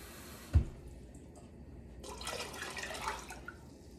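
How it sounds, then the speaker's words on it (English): Water pours into a cooking pot alongside broth, a splash followed by a steady, moderately loud liquid rush with light dripping over a few seconds. "And then you're gonna do another 4 cups of water."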